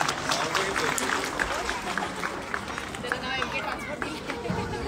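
A crowd at a children's cultural camp gathering claps for a child, a dense, steady patter of applause mixed with voices and chatter.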